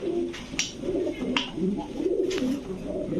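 Large imported pigeons at a pigeon shop coo in low, repeated throaty phrases, fairly close, with a few brief higher chirps and soft background noise throughout.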